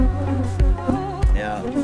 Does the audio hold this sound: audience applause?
no